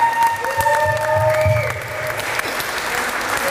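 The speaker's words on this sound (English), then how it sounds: "a round of applause for Cara" Wedding guests applauding for a bridesmaid during a reception speech, a warm burst of clapping that swells and holds, with scattered cheers and voices over it before easing off.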